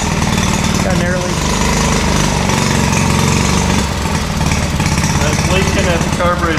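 A Z50 motorcycle engine runs close and loud with a rough, busy idle, its carburetor base leaking, while a person talks over the clatter.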